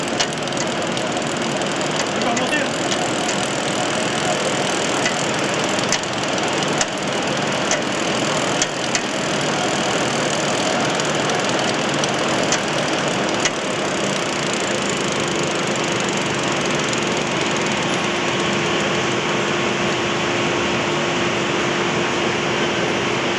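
Mariani profiling machine running at 40 meters per minute, its speed set by a variable electronic drive: a loud, continuous mechanical roar with a steady hum that holds unbroken throughout, with no speech.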